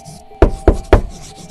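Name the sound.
knocking on a door, story sound effect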